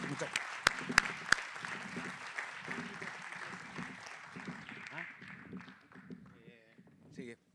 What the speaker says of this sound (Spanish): Solo quiero pedir para todos los representantes de los candidatos un enorme aplauso por su aporte a esta discusión nocturna.